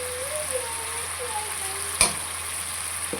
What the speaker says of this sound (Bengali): ভালোভাবে নেড়েচেড়ে কষিয়ে